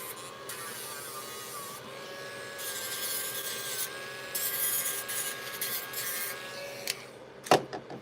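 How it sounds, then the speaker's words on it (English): The ends of bamboo pieces being beveled with a rasping tool, steady rubbing strokes close by, with a faint tonal whine underneath and a sharp knock near the end. "And now I just bevel the ends."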